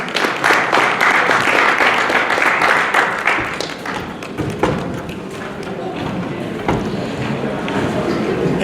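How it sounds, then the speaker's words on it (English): Audience applause greets two speakers, Josh and Ashley, as they come onto a conference stage, a dense, loud wash of clapping with scattered sharp claps that holds steady throughout. "let's just give them a round of applause and put them on stage"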